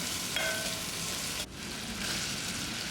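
Curry leaves, onion and tomato sauté in a pan of oil for a North Karnataka capsicum curry, a steady dense sizzle throughout with a brief dip midway and no talk.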